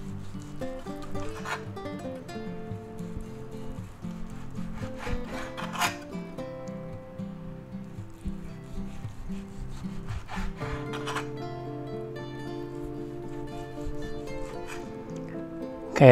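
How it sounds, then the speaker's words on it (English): A knife drawn back and forth through roast beef to cut thin slices, giving repeated rasping, sawing strokes with soft scraping on a board, fairly close and heard alone without talk. "Now we're going to try to cut these as thin as we can"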